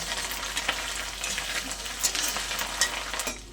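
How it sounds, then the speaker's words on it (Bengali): Onion frying with ginger garlic paste in a pan for a spinach and prawn dish, a steady close crackling sizzle with occasional stirring scrapes and no talk. "আদা রসুন বাটা পেঁয়াজটা আর একটু হালকা করে ভেজে নেব"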